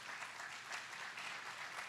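A church congregation claps together in steady, dense applause that sounds faint and somewhat distant, sustained evenly without pause.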